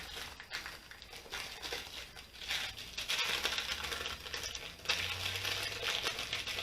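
Wax paper peeled off a freshly baked, still-hot pumpkin roll cake gives a steady crinkling, papery rustle up close, growing louder partway through with a few sharper crackles.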